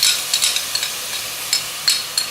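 Sour cream goes into a hot pan of onion, olive oil and butter drippings and is stirred, with a bright sizzle and several scraping stirs in short irregular bursts.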